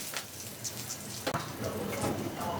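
Boiled potatoes frying in hot oil in a home kitchen, heard as a faint, steady sizzle and crackle with a brief sharper clatter midway.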